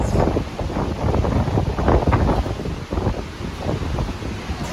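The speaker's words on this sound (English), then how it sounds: "It's crazy windy." Strong wind buffets the microphone on the open deck of the Royal Princess cruise ship at Skagway, Alaska, a loud, steady roar with gusting low rumble and no voices.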